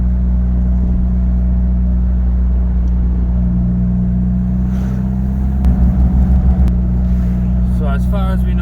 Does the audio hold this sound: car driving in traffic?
yes